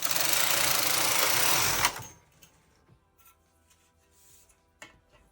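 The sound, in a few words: Brother KH 260 knitting machine carriage knitting right to left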